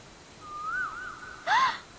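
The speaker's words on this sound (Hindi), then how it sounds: "ये तो कोयल की आवाज है।" An Asian koel calls outdoors, a thin rising and wavering whistle followed by a brighter, louder note, sounding clear and fairly close against quiet surroundings.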